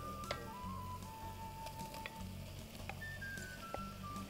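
Cooked potato fries in a pan with browned onion and garlic for a creamy caldo verde, a soft continuous sizzle with light stirring scrapes and a faint background hum.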